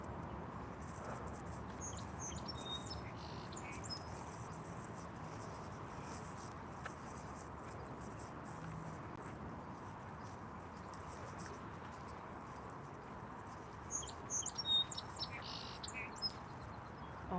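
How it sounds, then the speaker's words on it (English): Faint, high chirps and short bird calls come from some distance near a lake, over a soft, steady background hiss, growing a little busier toward the end. "Oh, there's the bird."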